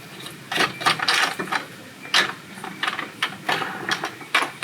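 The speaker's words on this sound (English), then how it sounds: "To get this toolbox out, I think I have to unscrew these little things." Small screws being worked loose to free a toolbox from a crashed Mitsubishi Montero, heard as irregular close clicks and ratcheting scrapes in short bursts, with no talking.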